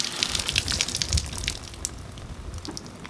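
Water gushes and sprays steadily while a Stihl GS 461 concrete chainsaw runs, with water carrying away cutting debris, cooling and lubricating the chain, a continuous hissing wash with no speech.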